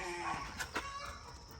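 Early-morning chickens on a small farm in Ghana give a few faint, brief clucks and chirps over soft outdoor background noise, with no one speaking.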